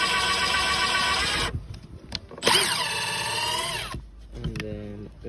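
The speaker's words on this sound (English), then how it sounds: "I'm gonna go ahead and drill these pilot holes right here." Power drill boring pilot holes in wood for a floating seedling table, a loud whining motor run that pauses, revs up again with a falling pitch, then slows, with a voice briefly audible between bursts.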